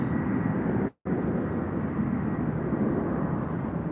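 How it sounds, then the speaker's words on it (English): An airplane's engines roar near an airport as it prepares for takeoff, a loud, steady low rumble filling the clip, broken by one brief dropout near the start, with no talking. "you can hear the airplane about to take off."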